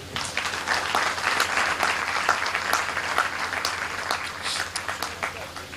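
An audience claps at the inauguration of the MGOCSM Global Conference at CCET campus, Bhilai, giving steady, sustained applause of many hands through the whole stretch with a faint hum beneath.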